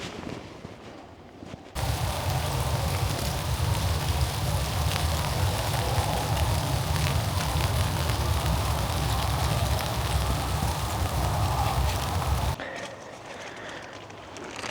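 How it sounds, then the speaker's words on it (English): Light rain falling on a stealth campsite, a steady soft hiss that begins abruptly and holds evenly for about ten seconds before cutting back to quiet ambience, close and with no voices. "as soon as I said it wasn't raining, it started raining a little bit"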